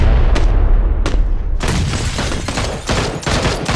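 Gunfire rattles from a rooftop in PUBG, a few sharp isolated shots followed by loud, rapid bursts of close automatic fire, with no talking over it.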